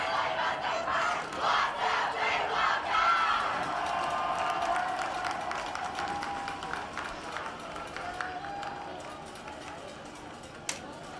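The home crowd at a girls' state-final basketball game cheers, whoops and applauds in a loud gym, then the roar gradually settles, with voices shouting throughout.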